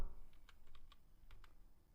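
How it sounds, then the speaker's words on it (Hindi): A word is typed on a computer keyboard with a handful of soft, separate key clicks, faint and slightly distant over low background hiss. "और यहाँ पे मैंने लुक टाइप किया।"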